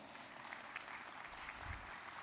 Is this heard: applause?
yes